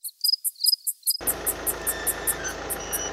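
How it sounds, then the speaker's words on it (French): Cicadas buzz outdoors in a steady, pulsing chorus on a sunny worksite, regular bright rasping pulses continuing over a broad background hiss, with no talking. "Il y a le soleil, il y a les cigales, ça va être le top."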